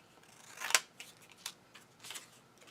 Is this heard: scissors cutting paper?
yes